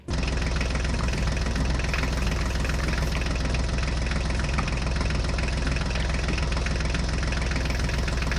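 Small HMT mini tractor engine hauling a trolley loaded with bricks, a steady loud close-up chugging drone that runs without a break, with a fast knocking idle rhythm and no voices.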